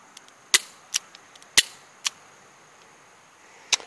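Dan Wesson .357 revolver with an 8-inch weighted target barrel firing: five sharp, separate shots spaced irregularly about half a second or more apart, each a crisp crack with a short decay, plus faint clicks between.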